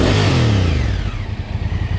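A Honda CRF1000L Africa Twin motorcycle engine revs hard close by, a loud throttle blip whose pitch sweeps down and settles into a rough, clattery idle.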